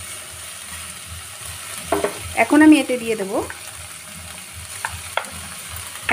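Vegetables and four green chillies crackle steadily in hot oil in a pan for khichuri, with stirring scrapes and someone speaking briefly over the sizzle.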